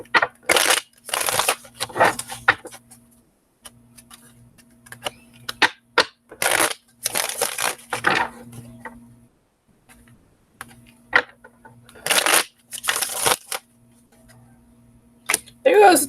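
Tarot cards being shuffled in several quick riffling bursts separated by pauses, close by.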